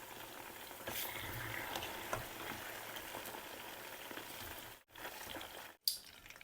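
Marinated beef pieces fry in hot oil with a steady, close sizzle and crackle that carries on without pause, broken by two brief silent gaps near the end.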